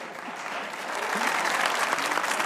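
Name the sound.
studio audience applause welcoming a guest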